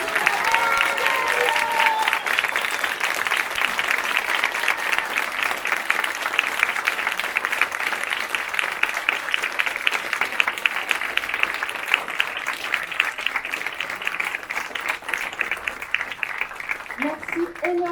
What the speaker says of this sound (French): Je vous invite à applaudir la meilleure audience que j'ai jamais eue.